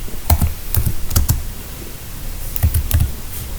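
Fingers type on a computer keyboard in short bursts of sharp, close key clicks separated by brief pauses, quiet room hiss underneath and no talking.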